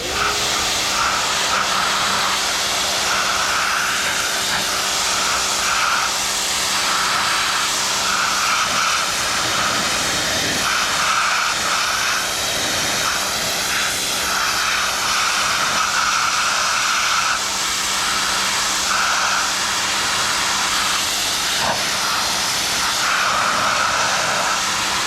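A Sun Joe electric pressure washer, 2050 PSI and 13 amp, blasts dirt and crud off a surface with a loud, steady broadband hiss of spraying water that runs unbroken and close for the whole stretch.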